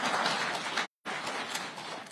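Audience applause at a presidential media briefing in Kenya, a steady dense wash of clapping that breaks off into a brief silent gap and then resumes just as full.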